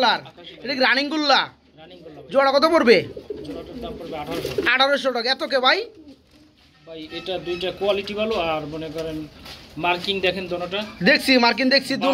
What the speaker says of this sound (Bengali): এই পেয়ারের দাম পড়বে মাত্র আঠারোশো টাকা